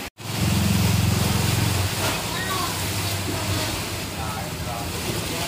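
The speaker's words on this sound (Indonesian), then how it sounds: "Ombaknya sangat raja guys. Ombaknya besar guys." Large sea waves wash steadily around a boat at Dungkek harbor, a loud continuous surging roar of water and wind close by, with a low rumble underneath throughout.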